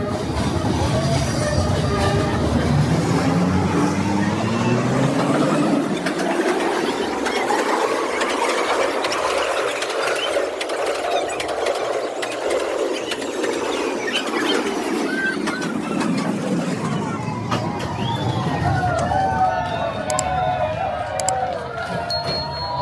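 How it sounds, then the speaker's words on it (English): A train thunders past at close range on street tracks in Hanoi, its roar swelling and fading with metallic wheel squeals, then another rumbling pass begins as the noise trails off. "the first of 3 trains came blasting through, thundering past us in a blur of lights and steel"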